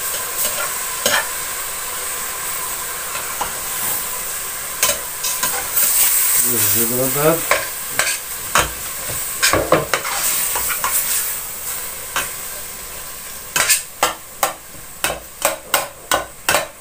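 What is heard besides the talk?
ground meat browning and frying in a pan for Bolognese sauce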